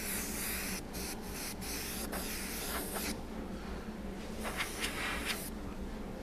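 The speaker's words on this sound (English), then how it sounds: "just as I'm spraying, I'm kind of just aiming right at the edge of the tape" Spray paint hisses from an aerosol can along a masking-tape edge on a guitar body, a steady broadband spray running throughout with a few short bursts and pauses, close and fairly loud.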